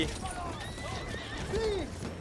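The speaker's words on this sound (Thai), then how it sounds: "ม้าฝ่ายเราฝ่ายเขาวิ่งมั่วหมดแล้วครับเนี่ย" Horses neigh and whinny in the Battlefield 1 video game, with rising and falling calls over a busy battlefield and a faint clip-clop of hooves, one loud close whinny standing out near the end.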